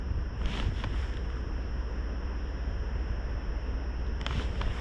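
Wind buffets a kayak on the water while fishing, a constant low rumbling roar of gusts against the microphone with a few brief hissing flurries and no voices.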